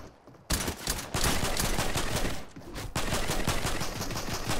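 Fortnite gunfire crackles in dense, rapid bursts of automatic shots, loud and sustained with brief pauses between volleys.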